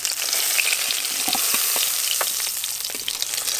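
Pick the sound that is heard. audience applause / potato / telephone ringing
potato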